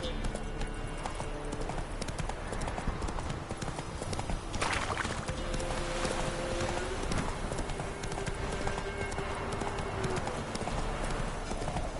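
Hooves of Roach, a horse in The Witcher 3: Wild Hunt on PS4 Pro, clip-clop in a steady galloping rhythm throughout, with a brief whinny, set under game music and ambient sound.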